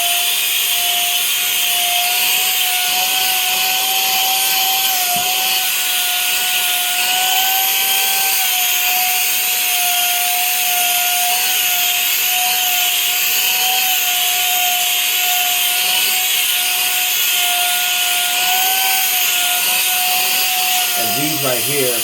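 A mini keyboard vacuum running continuously with a steady high-pitched whine and airy motor hum, close and loud throughout, with faint handling noises.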